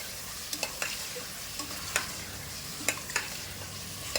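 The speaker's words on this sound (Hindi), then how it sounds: "जो ये सारे ड्राई मसाले बताई हूँ ये डाल देंगे और फिर इसके साथ में भुनाई करेंगे।" Mutton roasting in a pan with dry spices while being stirred: a constant moderate sizzle punctuated by irregular crisp spatula clicks and scrapes, with no one talking.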